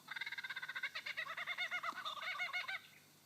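A lyrebird in a Victorian forest mimics a kookaburra's laughing call, a loud close run of rapid repeated cackling notes building into a busy chuckling chorus before cutting off, with no talking.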